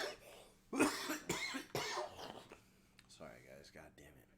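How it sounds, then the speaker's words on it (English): A person coughs close into a microphone in a few harsh bursts, followed by a quieter throat-clearing rasp. "I was trying not to cough, and then I coughed into the mic a little bit"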